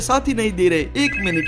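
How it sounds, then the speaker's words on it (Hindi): A telephone ringing with a shrill repeating ring, heard in short bursts under a person speaking close by. "किसी का तो फोन आ रहा है। ये तो दादाजी का फोन है।"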